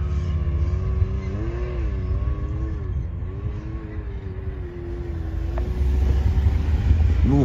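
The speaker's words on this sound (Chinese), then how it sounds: "你只管踩油门" A four-wheel-drive Audi A6 accelerates off-road, its engine droning loud and near with rising and falling pitch, then swelling toward the end.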